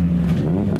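A JDM car's side-pipe exhaust burbles and rumbles nearby at a car meet, a low throaty drone with a slight rev rising toward the end.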